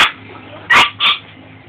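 A dog dashing around at play lets out two short, sharp bark-like bursts close by, with a quiet background between them.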